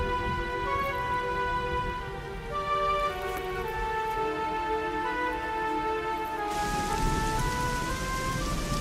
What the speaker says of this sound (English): I still love the sound of the rain against glass.